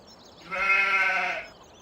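A single sheep bleats once on a farm in a video game, a clear, close, drawn-out bleat of nearly a second standing alone over a quiet background.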